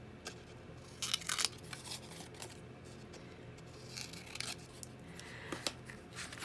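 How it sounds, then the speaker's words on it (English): Scissors snipping yarn during a stash-buster craft session, several quiet close-up cuts in irregular bursts with soft rustling between them. "just need to snip this down a bit"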